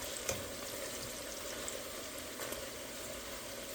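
Nacho chips deep-frying in hot oil, a steady even sizzle and bubbling hiss at moderate volume, close by, with no talking.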